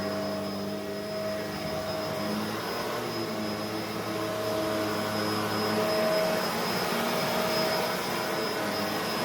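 A Bissell MultiClean Allergen Lift Off Pet upright vacuum cleaner runs steadily indoors, a loud continuous motor whine with a fixed tonal hum that swells slightly midway and holds without pause.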